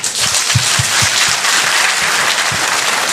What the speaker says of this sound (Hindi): मिला सीखने को तो हाथ ताली बजा दीजिए